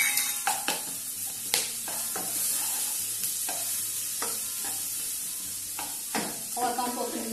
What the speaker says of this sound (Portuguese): Vou refogar aqui a cebola roxa.